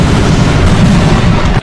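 Continuous loud gunfire from the Roblox All Star Tower Defense game, a dense rumbling barrage that roars steadily and then cuts off abruptly at the end.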